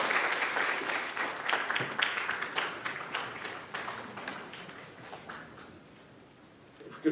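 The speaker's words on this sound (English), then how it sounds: "If we could hold applause until the end" Applause at a 2021 high school scholastic awards ceremony: a crowd claps in bursts that swell and thin out, gradually fading toward quiet near the end.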